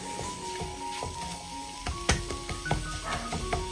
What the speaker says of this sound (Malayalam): നന്നായിട്ടൊന്ന് മിക്സ് ചെയ്യാം